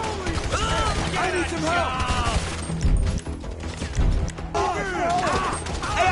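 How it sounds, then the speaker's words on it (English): Gunfire in the GTA 5 video game: a couple of sharp shots land amid a busy mix of game sounds, with people talking over most of it. "shooting our way out of here"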